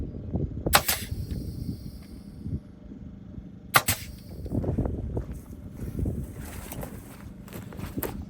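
A nail gun fires two sharp, loud shots a few seconds apart while boards go up for an off-grid outhouse in Alaska, with shuffling and handling noises in between.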